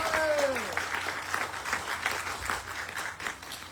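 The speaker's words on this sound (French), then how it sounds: "Un tonnerre d'applaudissements, s'il vous plaît." Audience applause at a cultural festival in Kénitra, a dense spread of clapping heard at moderate distance that continues steadily for several seconds, with a voice sounding briefly over it at the start.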